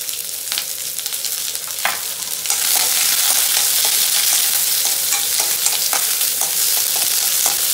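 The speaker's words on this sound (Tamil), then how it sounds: "இதுக்கு வந்து எண்ணெய் ஊற்றினாலே போதும். இப்போ கடுகு, வெங்காயத்தையும் கருவேப்பிலையும் சேர்த்துக்கலாம்." Mustard seeds, onion and curry leaves fry in hot oil in a pan, giving a steady close sizzle with scattered popping crackles that swells louder partway through, with no talking.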